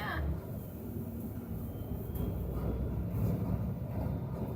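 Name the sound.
train passing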